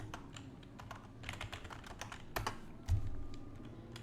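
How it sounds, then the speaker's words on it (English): Someone types a short command on a computer keyboard: quiet, irregular clicks and key taps at close range, ending with a firmer keystroke, with no talking. "Now we gotta go ahead and type pip install Scrapy."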